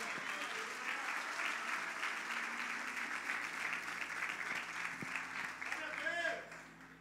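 A church congregation claps in sustained, dense applause that fills the room at an even level before easing off near the end, with faint voices mixed in.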